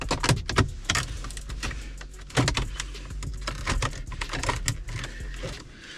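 Plastic trim panel on a 2012 Audi A6 being pried and popped loose with a trim removal tool, a run of sharp close clicks and snaps with scraping handling noise between them.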